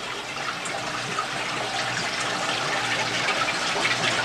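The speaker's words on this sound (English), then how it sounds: "It'll overflow through this here as it brings the water level up in the ponds, and it goes down" Koi pond water overflows through an outlet and drains down into a sewer pipe, a steady close splashing and gurgling flow that holds even and continuous, with no voices.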